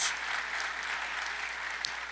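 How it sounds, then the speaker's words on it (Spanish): Church congregation applauding for God during a Spanish-language family worship gathering: a steady, brief wash of crowd clapping, moderately loud, with no talk over it. "Démosle un fuerte aplauso al Señor."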